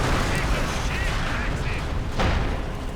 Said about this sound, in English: Oh, hitting a mine and an anti-tank grenade.